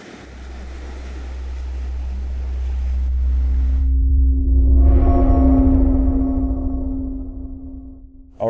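Waves wash along a shoreline in a deep, continuous rumble mixed with heavy wind buffeting the microphone, while a faint steady hum runs underneath.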